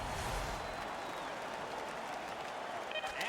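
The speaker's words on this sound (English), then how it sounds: "The crowd is ecstatic" Hockey arena crowd in the EA NHL video game, a broad roar of cheering and applause that holds steady throughout, with a commentator's voice faintly underneath.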